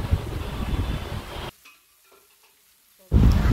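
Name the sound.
stirring and frying mustard paste for pabda fish curry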